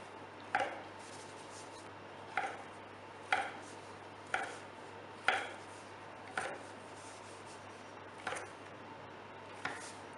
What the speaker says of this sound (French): On vient encore couper des petits triangles.